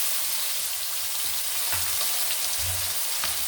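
Chopped onions hit hot oil already holding cardamom, cinnamon, whole cumin and bay leaves for a Bengali potato and chicken curry, and they fry with a steady, soft sizzle that is loud and close, with low bubbling and stirring bumps.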